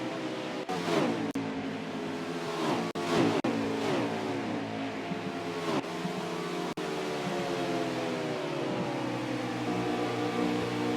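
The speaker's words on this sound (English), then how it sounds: "He tries to hold off Hip, who's desperately trying to get back to the front of this pack" Race car engines whine and drone in a NASCAR-style video game race at Kansas and Dover, with harmonic pitch sweeps as cars shift and pass in a pack, steady and loud throughout with no talk.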